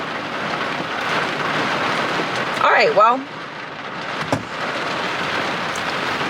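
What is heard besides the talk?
heavy rain falling outside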